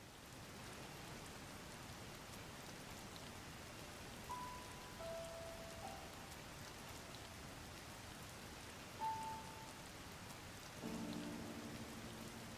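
Steady, soft rainfall in Zelda: Tears of the Kingdom makes an even hiss throughout. A few faint tonal blips sit above it near the middle and end, and no voice is heard.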